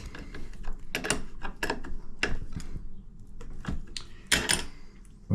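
A plumbing fitting being tightened with a tool gives sharp metallic clicks and ratcheting bursts, several spaced taps and scrapes close up, with no talking.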